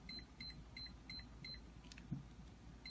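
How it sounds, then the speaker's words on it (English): An ASTC PW3002 keypad door lock beeps four times in a quick regular series, high-pitched and thin over a low background hum, followed by a faint soft knock. "You will hear 4 beeps if the operation is successful."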